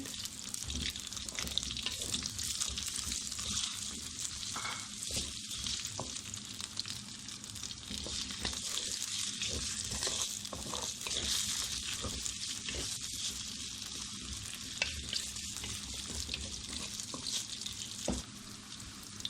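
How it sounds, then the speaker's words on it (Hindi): Potatoes fry lightly with onions in a pan, giving a dense continuous hiss and crackle with faint scraping of a spoon throughout, fairly quiet and without voices. "आलू को हल्का सा फ्राई करके"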